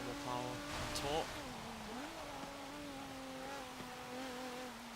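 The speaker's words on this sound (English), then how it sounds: "as you can see, high revving, far bigger engine than what it had originally" A 2019 Hyundai Veloster N in Forza Motorsport 7, fitted with a much bigger, more powerful engine, revs high with rising and falling harmonic tones, steady and close throughout.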